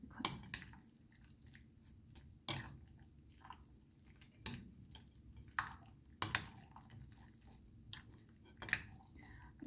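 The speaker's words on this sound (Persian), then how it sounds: "خوب مواد رو با هم مخلوط میکنم." Vegetable diet muffin batter with egg is stirred by hand, giving soft wet squishing and clicking sounds with occasional sharper knocks, close and quiet, with no talk.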